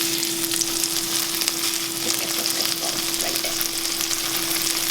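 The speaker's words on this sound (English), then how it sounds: "And we're just gonna let that fry up for a sec." Queso fresco and queso blanco fry in melted butter in a pan, giving a loud, steady, close-up sizzle and crackle with no pauses and no talking.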